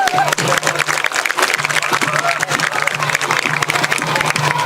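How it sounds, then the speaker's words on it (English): A crowd of football fans at a high school game applauds seniors with steady, close, dense clapping that holds for the whole stretch, with a voice underneath. "let's give one more round of applause for these seniors for their efforts for 4 years"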